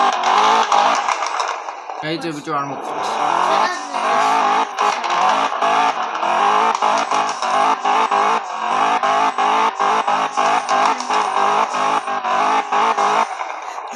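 A car engine in the Roblox video game revs loudly and continuously in a harsh buzzing drone with rapid rhythmic pulsing, while a person talks over it.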